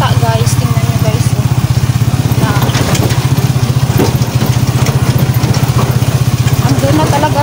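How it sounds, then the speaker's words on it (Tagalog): A motorcycle belonging to a family member runs at a steady, loud idle-like rumble as it is ridden into school grounds, with people talking faintly over it. "Ipasok na lang namin ang motor ni Papa John."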